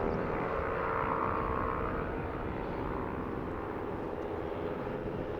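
Yamaha SSP300 supersport racing motorcycles race around the Slovakiaring circuit, giving a steady, dense engine roar at moderate distance with no clear single pass-by.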